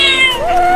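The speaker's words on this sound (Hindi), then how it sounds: "चिंटू देख, वहाँ बिल्ली रोड पर है।" A cartoon cat lets out a single short, bright meow that bends downward and then settles into a sustained tone, loud and close with no other sounds.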